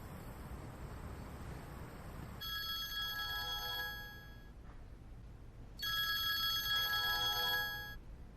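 A telephone rings in two bursts of bright, trilling electronic tones separated by a short pause, heard fairly close over a faint background hiss with no speech.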